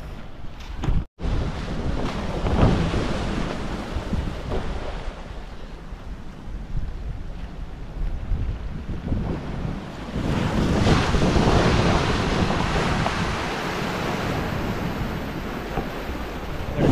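Sea waves surge and wash continuously onto a rocky natural shoreline near Shrivardhan–Diveagar, with strong wind buffeting the microphone throughout; a steady, loud roar with a brief dropout near the start.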